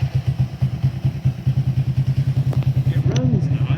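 A supercharged postie bike engine idles close by at running temperature with a steady, even thumping putter, and a short rising mechanical whine comes in near the end.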